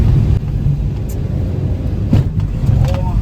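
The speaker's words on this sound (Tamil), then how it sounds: "ரொம்ப டிராஃபிக்காக இருக்குது." Steady low rumble of road traffic heard from inside a car on a Tamil Nadu highway at dusk, engine and tyre noise continuous and close, with passing vehicles swelling briefly.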